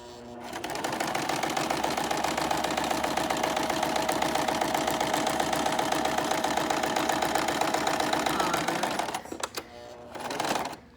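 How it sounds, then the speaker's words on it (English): Sewing machine running steadily while stitching a pillow, a close, fast, even mechanical whirr and needle rattle that holds for about nine seconds, then stops, followed by a short second burst. "Ooh, look at that machine go."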